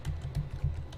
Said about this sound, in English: start typing in Snipping tool